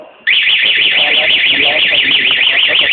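Motorcycle anti-theft alarm set off by tampering with the key: a loud, continuous warbling electronic siren that rises and falls rapidly, starting abruptly after a brief quieter moment and sounding close.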